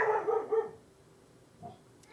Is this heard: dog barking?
yes